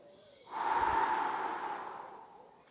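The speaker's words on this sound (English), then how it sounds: "take a nice deep breath for me" A single deep breath drawn in during a guided meditation, a soft airy rush that swells quickly and fades slowly over about two seconds, close and alone with no talking.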